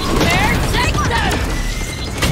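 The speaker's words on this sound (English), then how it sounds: "Spike planted." Spike being planted in Valorant, a rapid mechanical clicking and whirring with bright electronic chirps layered over busy in-game noise, with voices faintly present throughout.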